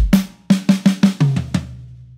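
A drum kit plays a groove with a left-hand pickup sextuplet fill: a quick run of about seven sharp, punchy tom and snare hits in even succession, loud and close, ending on a ringing low tone.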